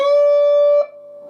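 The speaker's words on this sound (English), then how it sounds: "But then proceed to a bigger bend here on the C." A single sustained electric guitar note on C, bent upward as in a riff. It rings clearly and alone, then drops sharply in level as the bend is let go.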